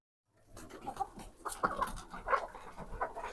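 Several hens cluck and murmur nearby in irregular bursts after a brief silent start, with soft rustling underneath.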